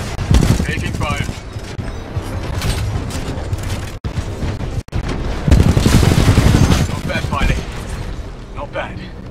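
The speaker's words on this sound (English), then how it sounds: "Taking fire." Video game Titanfall 2 combat: dense, loud bursts of gunfire and booming impacts rattle almost continuously, broken by two brief dropouts, with voices heard over the shooting.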